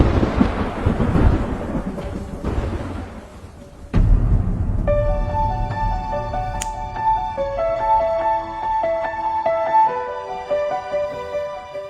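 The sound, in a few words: heavy rain and thunder outside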